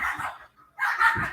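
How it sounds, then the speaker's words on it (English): Dogs fighting, giving loud close barks and yelps in two bursts with a brief pause between them. "My dogs are fighting like a motherfucker."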